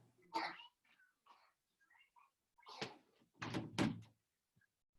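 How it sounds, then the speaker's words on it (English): A five-year-old child bangs on a bedroom door, a few heavy knocks and thuds scattered through, the later ones louder and closer, with faint soft sounds between them. "that's why she's like banging on the door"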